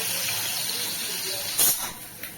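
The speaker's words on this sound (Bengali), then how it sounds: "এবার অন্য পিঠটাও হালকা করে ভেজে নেবো" Rohu fish pieces frying in hot oil after being turned onto the second side give a steady, close hiss, with one brief louder burst of sizzling partway through.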